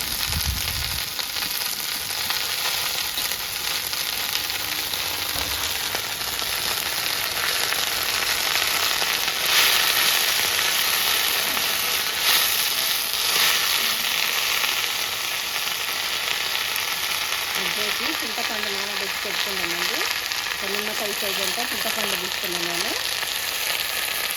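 Mint leaves fry in oil in a pan for mint chutney, a continuous dense sizzle lasting throughout with a few stirring scrapes, and a faint voice murmuring briefly toward the end.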